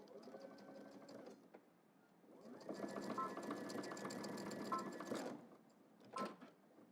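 Sewing machine stitching across a 1.5 inch hem allowance on the back vents of a double-breasted jacket, a steady mechanical whirr in two runs with a brief pause between, then a short final burst, close and quiet.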